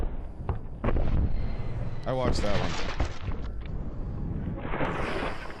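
A bowling ball cannon fires with a sharp, booming blast near the start, followed by rumbling noise while people talk over it throughout.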